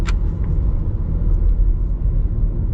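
Inside a 2022 Ford EcoSport 4WD, the engine pulls in S mode held in a lower gear, a steady loud low rumble with road noise filling the cabin and no talking.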